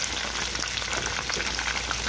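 Chicken pieces fry in hot oil with a dense, steady crackling sizzle that holds close and even throughout, with no talk over it.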